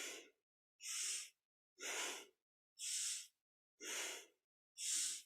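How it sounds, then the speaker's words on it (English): Deep yoga breaths during a kundalini spinal flex: six slow, evenly spaced breathy rushes of air alternating inhale and exhale, close and soft, with silence between them and no speech. "Inhaling forward, exhaling back."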